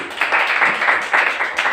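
An audience claps for Jain sahib at a patriotic stage program, a short, fairly loud burst of scattered, rhythmic hand claps with no voices over it.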